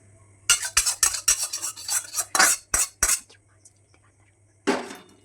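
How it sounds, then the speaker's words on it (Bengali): A spoon scrapes cooked puti fish sour curry from a metal pan into a bowl in a rapid series of sharp, close metallic scrapes and clinks, then a pause and one last scrape. "এবারে আমি বাটিতে ঠেলে দিচ্ছি"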